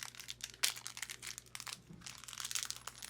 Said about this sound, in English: rip open the bag,